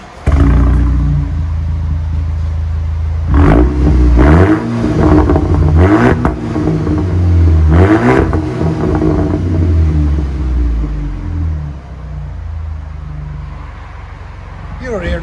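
A 2016 Audi A5 2.0 turbo quattro with its muffler deleted, idling deep and loud, then revved in several sharp bursts close by that fall back to idle before the engine winds down.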